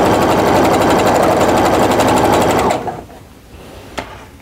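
Sewing machine stitching fabric pieces for a scrappy Christmas tree mug rug, a loud, close, fast rhythmic chatter that runs for nearly three seconds, then stops, followed by a single soft click.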